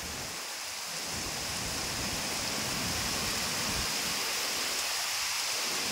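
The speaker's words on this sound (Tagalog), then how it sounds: "sobrang lakas ng ulan, kapal na kapal o dilim." Heavy rain pouring down steadily in a Philippine province, a dense continuous hiss with deep low rumbles swelling underneath.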